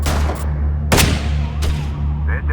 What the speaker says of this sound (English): There's even a moment there where you and your team shoot the dude's legs